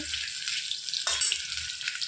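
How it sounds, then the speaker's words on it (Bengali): Close, continuous sizzling of potatoes frying in oil, a bright crackling hiss with a brief stir in the middle. "আলুগুলোকে ভেজে নিচ্ছি"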